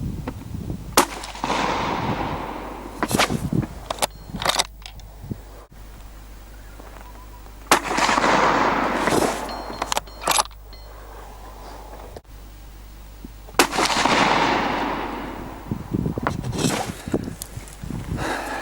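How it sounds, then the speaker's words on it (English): Three rifle shots from a Thompson Center Dimension firing Federal Premium 55 grain ballistic tip rounds, each a sharp loud crack with a decaying echo, spaced several seconds apart, with small handling noises between. "we'll do 3 shots of the Federal Premium 55 grain ballistic tip"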